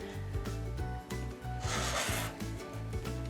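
Steady rasping rub of quilting fabric strips being cut along a ruler, continuous and close with faint rhythmic pulses, no voices.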